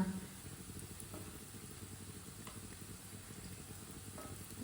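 Potato kebabs frying in a pan over low heat, a steady soft sizzle holding evenly throughout at low volume with no talking.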